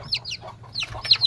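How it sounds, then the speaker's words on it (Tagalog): Chicken calls from a rooster bred from a three-time winning fighting cock, with repeated short bright squawks and clucks close by over a low background hum, no crow evident. "rooster."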